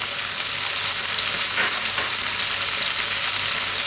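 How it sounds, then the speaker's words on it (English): Loud, steady sizzling of a beef and mushroom stir fry in a hot wok as ginger goes in, with a brief flare of crackle and a scrape of stirring partway through, and no voices. "Next up, we're going to add the ginger"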